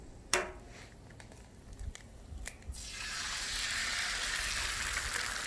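Eggs drop onto a hot Blackstone flat-top griddle with a few sharp clicks, then a steady, loud sizzle rises and holds close by.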